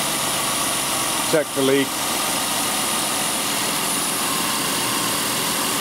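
Ford engine idling steadily with a continuous low droning rumble, loud and close; a brief spoken phrase cuts in near the start, then the idle carries on unchanged to the end.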